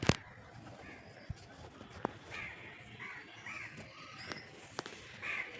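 Crows cawing outdoors as birds gather at scattered grain, with a few sharp clicks and taps nearby over a quiet background; calls come in several short bursts, moderately distant.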